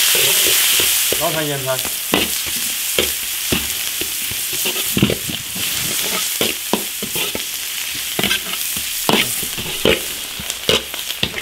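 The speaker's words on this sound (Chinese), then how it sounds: "鱼姜、大葱、泡椒、炒香" Ginger, scallion and pickled chili stir-fry in an iron wok with a loud, close sizzle and repeated sharp spatula scrapes and clacks; a voice speaks briefly at the start.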